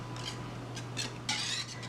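Utensil scraping and clinking against a bowl while egg is stirred into a homemade macaroni and cheese mixture, a few soft strokes then a louder scrape, close and quiet over a low hum.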